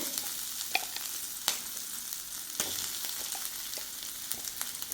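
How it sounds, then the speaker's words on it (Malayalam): Ground spice paste (arappu) sizzles and spits in a hot pan with curry leaves, a steady close crackle broken by a few sharper pops and stirring scrapes. "ഇതിലേക്ക് നമ്മുടെ അരപ്പ് ചേർത്ത് കൊടുക്കുകയാണേ"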